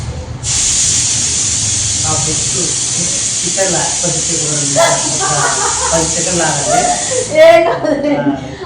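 A pressure cooker in a home kitchen lets out a loud, continuous whistling hiss of escaping steam that runs for about seven seconds before cutting off, while people talk over it nearby.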